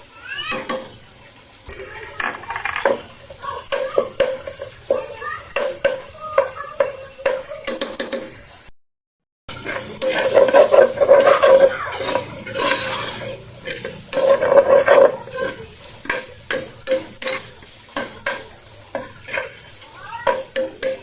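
Chopped garlic and onion sizzle loudly in hot cooking oil while a utensil scrapes and stirs against the pan in steady, repeated strokes, with a brief silent gap partway through.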